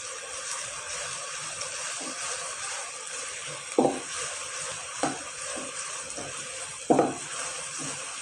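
Onions and tomatoes frying in a pan for a village-style mixed vegetable dish, a steady soft sizzle with a few sharper stirring scrapes and clinks rising above it.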